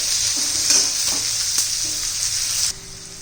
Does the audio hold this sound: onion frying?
yes